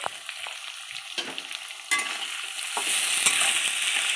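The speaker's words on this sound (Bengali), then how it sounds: "দিয়ে নাড়িয়ে নিচ্ছে।" A spoon stirs turmeric and cumin through food frying in a pan, with scraping strokes and light taps over a rising, close sizzle and no talking.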